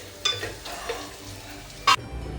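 Potato fry sizzling in a pan, with a steady frying hiss and a few brief scrapes of a spoon against the pan.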